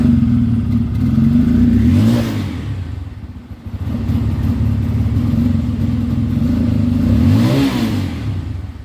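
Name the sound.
BS6 motorcycle engine starting and revving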